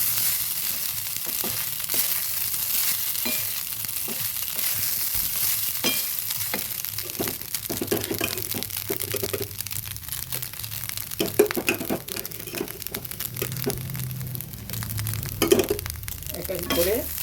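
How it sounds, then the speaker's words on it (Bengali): Rice being stirred with salt and turmeric in a pan over low heat, with a steady soft sizzle under repeated scraping and clinking stir strokes, and a voice speaking now and then. "ভালো করে আঁচটা কমিয়ে মিশিয়ে দেবো।"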